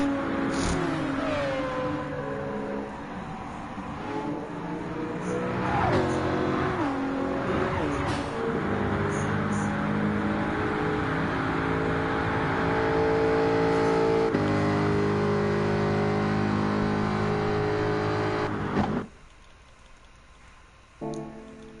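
Race car engines in Gran Turismo 7 during a custom race with a Nissan GTR Nismo GT3 2018 on the offense into turn 1: loud, continuous revving with repeated shifts and rising pitch sweeps, cutting off abruptly near the end.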